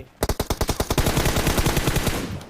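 Automatic weapon fire in PUBG Mobile: a rapid burst of about twenty loud, evenly spaced shots, the first several crisp and the rest blurring into a dense rattling stream that fades slightly at the end.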